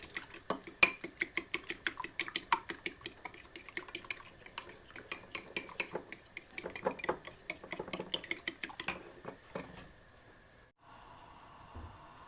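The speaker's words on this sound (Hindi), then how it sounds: "अब हम इसमें 1 अंडा भी डालेंगे, अंडे को अच्छी तरह फेंट लेंगे" An egg being beaten in a bowl with a utensil for chicken corn soup, a fast regular run of light clicking strokes that slows and stops near the end.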